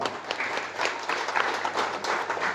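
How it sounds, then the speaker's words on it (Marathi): An audience at a Marathi TV serial press conference applauds, a short burst of steady, moderately loud clapping from a small crowd that fills the whole moment. "टाळ्या पण तितक्याच तगड्या झाल्या पाहिजे, जोरदार"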